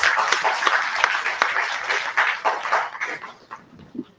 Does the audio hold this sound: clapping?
yes